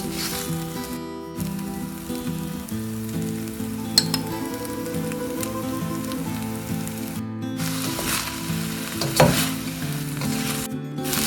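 Chicken fried rice with soy sauce stir-fries in a hot iron wok, a steady loud sizzle with occasional clinks and scrapes of a spatula against the metal, and no voices.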